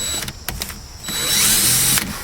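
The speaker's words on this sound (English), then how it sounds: "I'm gonna go ahead and finish out drilling the hole." A power drill bores a hole in a kayak, starting with a few short clicks and taps, then a loud whining spin for about a second before stopping.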